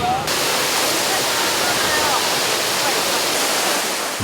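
A waterfall on Jeju pours in a steady, loud rush of splashing water that fills the whole stretch evenly, with no break in the roar.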